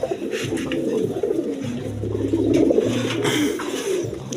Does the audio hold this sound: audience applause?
no